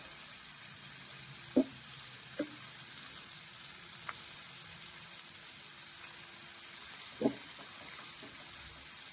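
Fish frying in a pan for a traditional Kerala-style preparation, a steady hiss of sizzling oil throughout with a few brief clinks and scrapes as the fish is turned.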